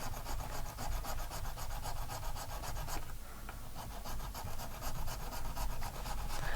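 Steady rasping rub of a file or sanding tool shaving down the top of a guitar nut, repeated close strokes in a continuous rhythm with a brief pause midway, no talk.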